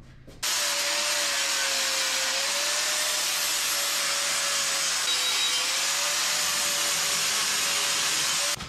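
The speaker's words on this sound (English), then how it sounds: "Flapper disc these, because we're gonna have to weld on this some." A flap disc grinds the ends of a steel service-truck ladder rack, a steady loud abrasive whine and hiss running without a break for about eight seconds, with no talking.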